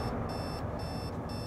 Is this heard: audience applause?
no